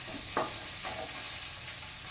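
Spiced tempering sizzles steadily in a hot pan for Gujarati khatiya dhokla, a continuous hiss with a few brief crackles and spoon scrapes, close and fairly loud with no voices.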